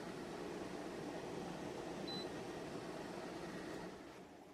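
A window air conditioner's fan runs with a steady, even whoosh and hum that dips slightly near the end.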